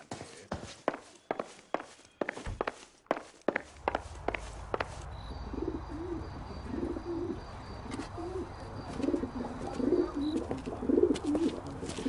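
Carrier pigeon cooing in the L.A. Noire video game, soft repeated coos over a low background hum, following a run of sharp footsteps at the start.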